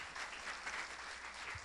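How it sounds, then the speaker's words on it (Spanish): Congregation at a Spanish-language church service applauding, a faint, steady wash of clapping from a fairly distant crowd, continuous for under two seconds. "así que démele ese aplauso al Rey, por favor"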